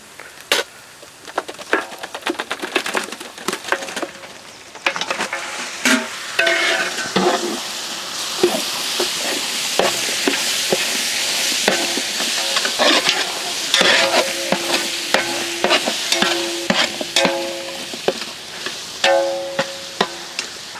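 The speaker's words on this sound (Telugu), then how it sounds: "ఎప్పుడైతే దాని రా స్మెల్ అంతా పోతుందో అదే టైంలో మనం దీంట్లో మటన్ యాడ్ చేద్దాం" Mutton sizzles loudly in hot oil with ginger garlic paste for a Gongura mutton biryani, a steady frying hiss broken by frequent scraping clacks from a stirring spoon against the pan, close up and with no talking.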